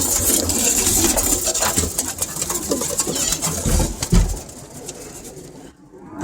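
A young grizzle pigeon handled in a loft, soft cooing and fluttering rustles with a few brief knocks, close by and fading out at the end.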